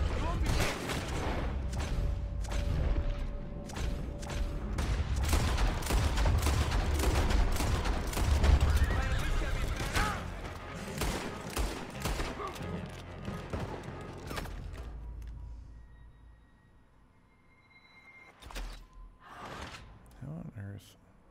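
Rapid bursts of gunfire from the Red Dead Redemption 2 game crack repeatedly across the first fifteen seconds, loud and dense, then thin out to a few scattered sharp shots over quieter ambience, with a voice talking over it.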